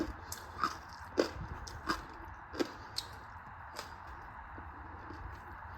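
Faint crisp bites and crunches of oven-roasted Filipino-style lechon pork skin, about eight separate crunchy snaps spaced roughly half a second apart, quiet and close with no talking.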